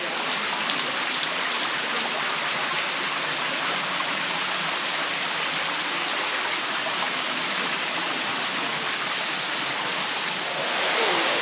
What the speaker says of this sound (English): a little warm waterfall. I see it, you know, a little waterfall there.